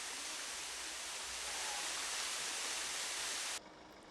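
Hongnyong Waterfall in Yangsan pours with a loud, steady, broad roar of falling water that cuts off abruptly just before the end.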